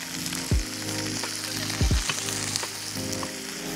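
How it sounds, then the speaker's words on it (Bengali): Purple cauliflower and paneer frying lightly in a pan give a soft, even sizzle, broken twice by brief low thumps as the pieces are stirred. "সব মিলিয়ে একটু ভেজে নিতে হবে, খুব সামান্যই ভাজতে হবে, বেশি ভাজবো না"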